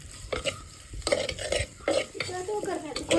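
Whole spices tempering in hot oil in a pan for a Mangalorean mutton curry, with a steady sizzle broken by repeated scraping stirs, close and moderately loud, no talking.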